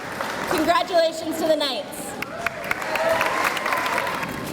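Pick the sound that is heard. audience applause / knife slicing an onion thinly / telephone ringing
audience applause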